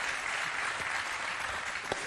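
A studio audience on a Moroccan TV talk show claps steadily, a dense even patter of many hands that stays moderately loud throughout the short stretch.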